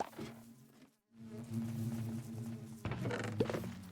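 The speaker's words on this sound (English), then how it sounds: "make sure we don't let the bees out." Bees buzz around a beehive in the Minecraft game, a steady droning hum that cuts out briefly, then returns fuller with faint clicks and shuffling over it.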